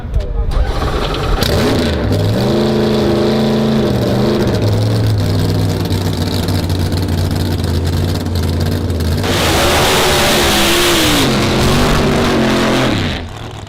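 A Mustang drag racing car with a huge 14–15 litre V8 engine revs loudly and closely, its pitch rising and falling, then swelling into a harsher roar before cutting off; a voice is heard over it.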